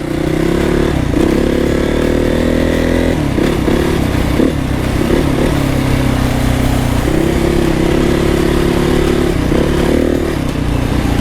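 A Honda dirt bike is ridden across desert sand in Ocotillo Wells, its loud engine droning continuously up close with shifting pitch as the throttle rises and falls, and wind buffeting throughout.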